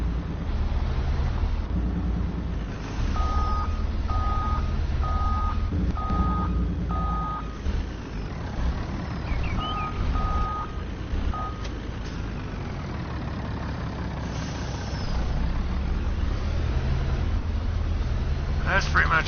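A heavy truck in a PS4 video game rumbles with a low engine drone while two runs of regular reversing beeps sound, followed by a brief hiss of air brakes near the end.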